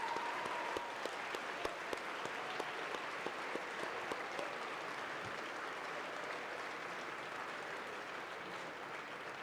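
Steady, fairly quiet applause from students and guests at a school honors day for award winners, with a few sharper individual claps standing out early on and the clapping holding steady throughout.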